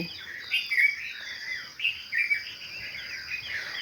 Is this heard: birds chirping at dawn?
yes